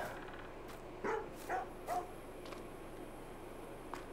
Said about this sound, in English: Oh, he's a barky dog.